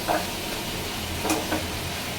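Chickpeas stir-frying for iftar, a steady close sizzle with a few sharp scraping stir strokes and no talk.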